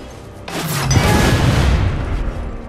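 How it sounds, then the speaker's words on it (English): Explosions go off in the video game Captain America: Super Soldier, a loud booming blast after a brief quiet start, followed by a sustained roaring rumble and crackle. "I'm just causing explosions now for fun."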